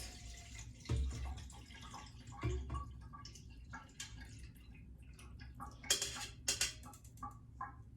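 Carrot juice trickles and drips through a kitchen strainer into a container, a quiet watery pour with a few louder splashes and clinks near the end.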